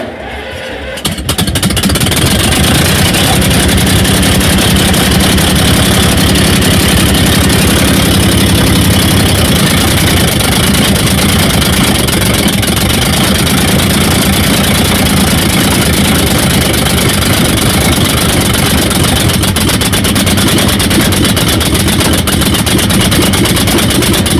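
A Link-Belt LS40 crane's engine cranks and catches after a brief quiet moment, then settles into a loud, steady, rumbling idle with a rough knocking vibration that continues close up for the rest of the time.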